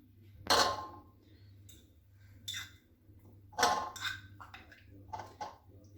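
A plate is taken from a kitchen cupboard with a few sharp ceramic clinks and knocks spaced across several seconds, close and fairly quiet over a low background hum.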